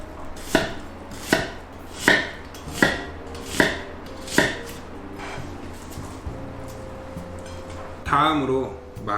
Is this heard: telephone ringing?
no